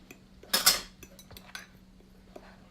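A utensil stirs cinnamon and sugar in a mixing bowl for coffee cake, with a couple of sharp clinks against the bowl near the start, then quieter scraping taps, close and otherwise fairly quiet.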